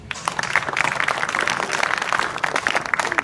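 Students clapping together at an adolescence education session in an inter college hall, a steady dense patter of many hands sustained throughout without a break.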